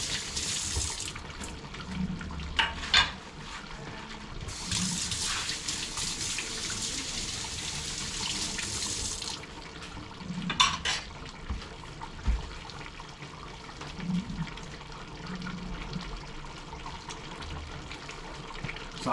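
Kitchen tap running into a sink while dishes are washed mid-way through cooking curry, a steady broadband water rush with bursts of louder splashing and clinks of dishware throughout.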